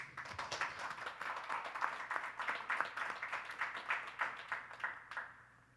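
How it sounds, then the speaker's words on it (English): A college audience claps in welcome, a faint, steady patter of many hands that fades out over the last second. "Give him a nice, warm applause"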